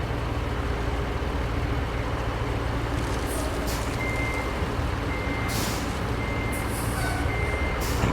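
A dump truck in the video game Roadcraft backs up, its reversing alarm giving steady, evenly spaced beeps over a loud, constant diesel engine drone, with occasional hissing bursts like air brakes.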